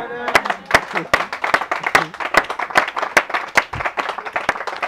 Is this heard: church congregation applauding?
yes